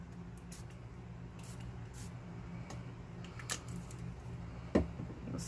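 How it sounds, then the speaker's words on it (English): Several short bursts of spray paint onto a tee shirt hiss at irregular intervals, close and fairly faint over a quiet background. "I'm just going to spray them on."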